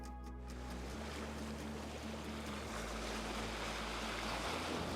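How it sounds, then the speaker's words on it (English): Broad rushing water and wind noise while sailing around a headland where strong tide runs over overfalls, a steady close roar with a low engine-like hum underneath and no talk. "The tide is brutal coming around this headland."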